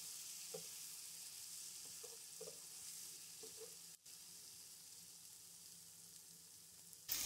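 Bell peppers and potatoes fry in an uncovered pan with a steady, quiet sizzle, punctuated by a few soft stirring clicks early on and a brief thump near the end.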